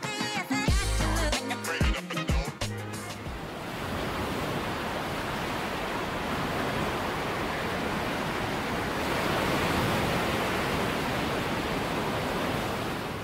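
Ocean surf on the Atlantic, a continuous broad wash of breaking waves that rises and falls gently. A short burst of music comes first and then gives way to the surf.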